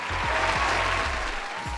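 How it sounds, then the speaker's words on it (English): A crowd gives a round of applause, a dense, steady wash of clapping throughout, loud and continuous with no voices over it. "Give them a round of applause."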